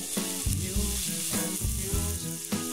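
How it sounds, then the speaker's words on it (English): Food sizzles steadily in a hot pan with a little olive oil, a loud crackling hiss with soft knocks and clatters of cookware repeating through the clip. "You can hear that sizzle, that's a really good sign."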